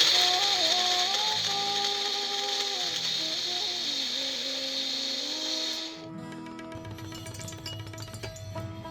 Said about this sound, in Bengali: এবার আমরা কাজু বাদাম আর নারকেলটাকে গুঁড়ো করে নিচ্ছি